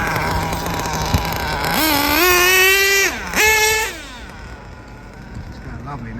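A Hobao Hyper VT GT radio-controlled car speeding past with a high electric whine that rises and falls in pitch through two quick acceleration runs, loud and close before fading away.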